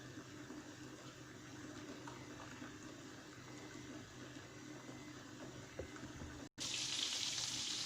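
Butter melting in a pan over a gas flame, a faint, steady low sizzle with soft bubbling that cuts out briefly, then returns as a brighter, louder hiss.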